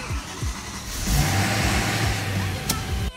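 A BMW M3 engine cranks and fires up in a garage, catching with a loud rumble that swells and holds as it revs, close by and without talking.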